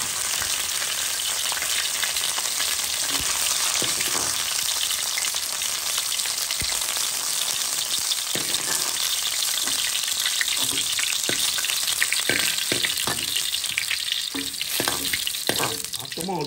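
Courgettes sauté in hot oil in a pan, giving a dense, continuous sizzle and crackle close by, with occasional stirring clinks and scrapes and no talk.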